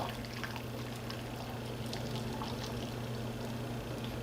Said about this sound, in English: I want to take this and put it through a strainer